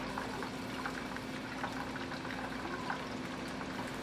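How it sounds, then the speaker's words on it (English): Fresh rosemary sizzles in hot oil in a pan before pompano is fried, a soft, steady crackling fizz with faint pops, quiet and unbroken. "These are going to just warm up, start frying, and infuse a lot of flavor and fragrance into my oil"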